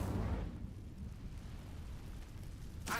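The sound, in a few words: Incendio fire spell cast in a video game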